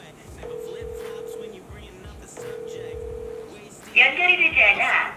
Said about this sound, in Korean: 그러면 친구한테 한번 전화를 해보겠습니다.